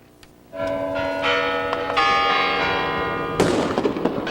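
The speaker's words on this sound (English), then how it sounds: "As the Kremlin bells struck midnight, thousands on Red Square celebrated the start of 2006" Kremlin bells ring out over Red Square at midnight on New Year 2006, with loud, sustained ringing tones layered together. A crowd's cheering swells in near the end.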